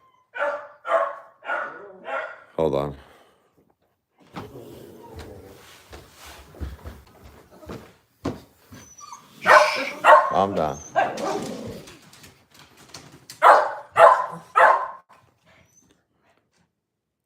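A dog barks repeatedly in short bursts, with a lower whimper in between, while a person speaks briefly nearby.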